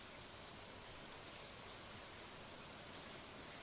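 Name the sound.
rain in the video game Stardew Valley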